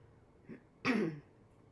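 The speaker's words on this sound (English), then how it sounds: "still clearing my throat" A single short, rough throat clearing rasps out after a faint small sound, close by and otherwise quiet.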